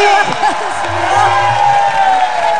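A studio audience on an Indonesian television talk show cheers and whoops for two female guests, a loud continuous crowd roar with raised voices layered over it.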